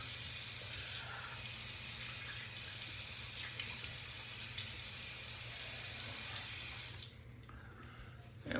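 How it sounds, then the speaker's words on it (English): A stainless safety razor is rinsed under a running faucet, a steady, even rush of water from a nearby tap that stops abruptly near the end. "I'll go ahead and rinse."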